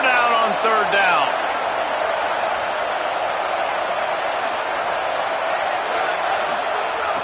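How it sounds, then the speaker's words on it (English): A stadium football crowd roars steadily on third down, a dense, loud, sustained wash of cheering and noise with some brief whistling and shouts near the start. "Here comes the noise of this crowd doing everything they can to help the defense bear down on third down"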